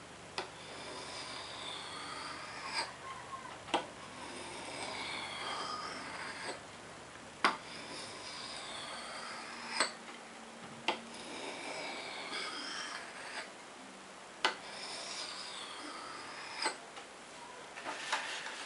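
A bushcraft cutting tool's blade is drawn over a sharpening stone at a steady angle, giving repeated soft rasping strokes punctuated by regular light clicks, close and fairly quiet with no talking.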